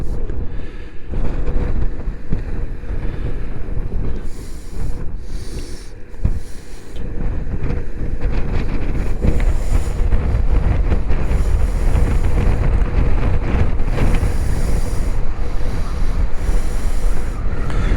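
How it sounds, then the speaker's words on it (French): Strong wind roars and buffets a microphone continuously on a motorcycle ride through countryside in northern France, a heavy low rumble with gusty surges and no voices. "On va fermer la visière parce qu'il y a beaucoup de vent."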